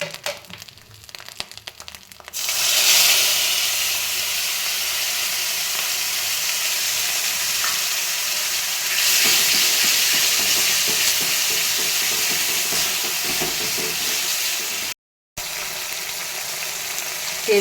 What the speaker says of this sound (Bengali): এবার আমি পালং শাকের পেস্টটা এর মধ্যে দিয়ে দেব।